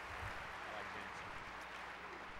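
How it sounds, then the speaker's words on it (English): An audience at a hypnosis show at the Mandalay Bay applauds in a steady, dense wash of clapping that lasts a couple of seconds, with voices mixed in. "Give him a round of applause."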